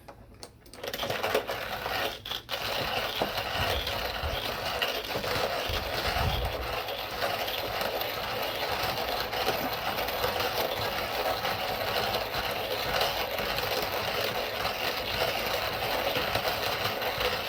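A Rhino Coffee Gear hand coffee grinder cranking through coffee beans, a steady continuous grinding rasp that runs close and fairly loud for nearly the whole stretch, with no one speaking.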